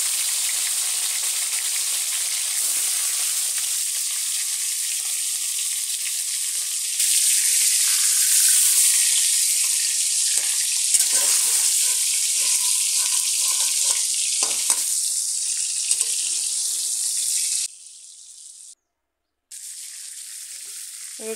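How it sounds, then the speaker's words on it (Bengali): Chicken pieces fry in hot oil for a restaurant-style chicken roast, giving a steady, loud, close sizzle with brief stirring clatter and a short drop near the end. "দেখুন আবার ওই তেলের মধ্যে বাকি চিকেনগুলো ভেজে নেব একইভাবে।"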